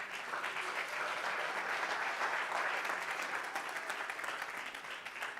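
A church congregation applauds steadily, dense clapping from many hands that holds for several seconds at moderate volume before easing slightly.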